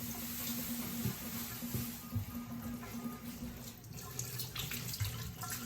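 Tap water runs steadily into a sink while lime is washed during turkey preparation, a soft continuous splashing stream with faint clinks and handling sounds nearby.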